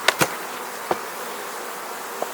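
Honeybees in an opened hive, agitated after their queen was removed, with a few sharp close buzzes passing the microphone over a faint steady hum.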